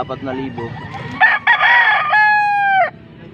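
A full stag gamecock crows loudly and close by at a market stall in Angeles, Pampanga, one strong, rising cock-a-doodle-doo that holds and then cuts off. A few clucks come just before it.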